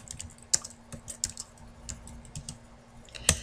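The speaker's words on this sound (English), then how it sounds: "we're going to start by typing in today's date" Someone types a date on a computer keyboard, a loose run of light clicking keystrokes with a few sharper taps, close and steady over a faint hum, no voices.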